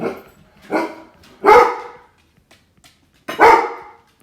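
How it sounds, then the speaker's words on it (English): A dog barks inside a house, four sharp barks spaced out, the first two lighter and the last two loud and close, with quiet gaps between them. "Sorry about my dog."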